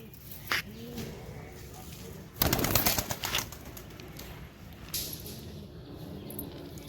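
Home-raised desi pigeons, healthy breeding pairs, give soft low cooing calls scattered through the clip over a steady background hiss, with a brief louder burst of rustling noise in the middle.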